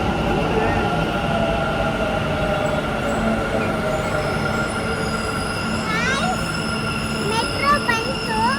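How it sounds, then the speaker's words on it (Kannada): Metro train pulling into a station: a continuous loud rumble with high, shifting wheel squeals and tonal whines building near the end, while people talk nearby. "ಮೆಟ್ರೋ ಬಂತು."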